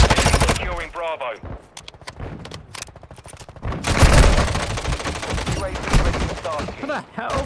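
Rapid bursts of gunfire from a downed player in Warzone Mobile, sharp repeated shots in quick succession over dense game battle noise, with voices talking at times.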